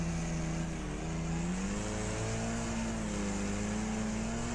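Race car engines in the Wreckfest racing game: a steady, loud engine drone with a rising pitch as the car accelerates, other cars humming close by, no talk.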